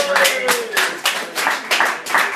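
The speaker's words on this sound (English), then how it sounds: "Give a big round of applause for Dr. Bain" An audience at a live stage show applauding, a burst of steady clapping in uneven pulses with voices mixed in.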